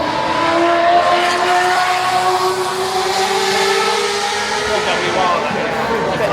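BMW M3 Touring passing at a busy automotive show, its engine note rising and sweeping by steadily over about six seconds amid crowd noise and chatter.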